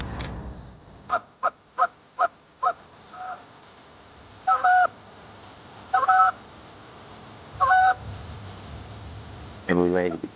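Geese honk during an early-season goose hunt beside a hay field and cornfield, a string of short sharp calls that gives way to longer spaced honks and ends in a rapid burst. No one talks.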